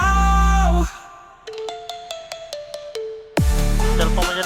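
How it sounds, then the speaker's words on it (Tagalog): A mobile phone ringtone plays a quick series of bright, evenly spaced electronic tones, set between bursts of loud music that cut in before and after. "Cellphone mo dyan naguni?"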